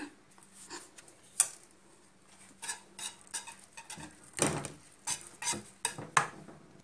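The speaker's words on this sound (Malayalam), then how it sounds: "ഈ പകുതിയിൽ ഞാനൊരു ഒരു ടീസ്പൂൺ ചോക്ലേറ്റ് പൗഡർ ആഡ് ചെയ്തിട്ട് ഒന്ന് വിസ്ക് ഉപയോഗിച്ച് നന്നായിട്ട് മിക്സ് ചെയ്യാൻ പോവുകയാണ്" A whisk mixes chocolate powder into homemade ice cream mixture in a bowl, producing sharp irregular metallic taps and clinks against the bowl, fairly close and moderately loud, with pauses between bursts.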